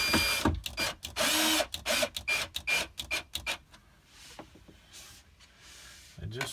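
A drill drives screws to mount gas hinges on a cabinet door, giving short loud whirring bursts near the start, then quieter intermittent spins with gaps between.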